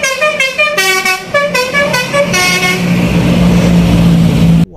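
A toy Transjakarta bus sounds its horn in a series of short, bright honks, then gives one long sustained toot that cuts off abruptly, close and loud.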